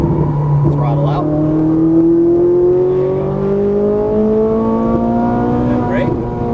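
A Ferrari 458 Italia accelerates on a race track, its engine note climbing steadily and loudly. An instructor talks over the engine throughout.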